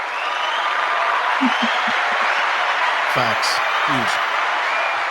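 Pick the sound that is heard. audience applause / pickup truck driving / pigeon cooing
audience applause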